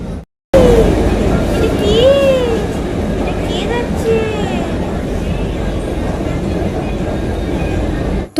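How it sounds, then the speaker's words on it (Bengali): Metro train ride heard from inside the carriage: a loud, continuous rumble of wheels and motor with brief high squeals, and people talking over the din. "মেট্রোতে করে যাচ্ছি"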